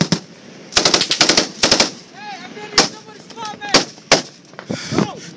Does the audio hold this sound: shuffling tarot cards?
no